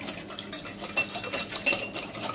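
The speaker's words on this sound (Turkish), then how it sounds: "Tamamen yoğurdu içerisinde dağıtıyorum." A utensil stirs lemon and yogurt marinade in a bowl, producing a steady run of soft scraping and light clinking, close and continuous with no talk.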